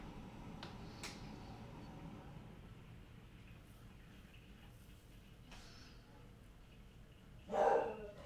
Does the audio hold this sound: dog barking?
yes